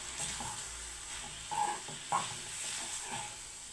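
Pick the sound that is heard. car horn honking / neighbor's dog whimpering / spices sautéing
spices sautéing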